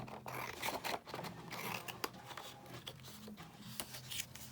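Scissors cutting through misprinted paper in close, steady snips and scrapes, with crisp paper rustle between the cuts and no talking.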